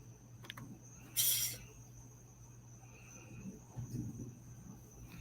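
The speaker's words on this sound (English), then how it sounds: "Never liked the sounds of crickets." Crickets chirping steadily in the background, a faint continuous high trill under a low hum, with one brief louder burst early on.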